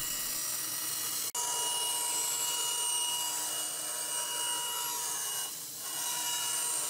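A bandsaw cuts wooden push block pieces in a workshop, giving a steady, loud whirring hiss with a faint high whine. A sharp click comes early and a brief dip near the end.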